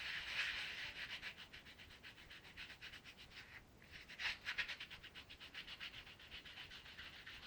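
A rough-sided foot file scrubbing under the heel during a salon pedicure, quick rhythmic rasping strokes repeated steadily, close and soft in a quiet room.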